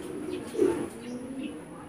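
Pigeons give a low, soft coo close by, one swelling call against a steady background hum, with no talking.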